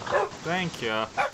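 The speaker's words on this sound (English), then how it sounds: "No, that's my dog." Dog barking in the Minecraft video game, a few quick yipping barks up close, mixed in with people talking.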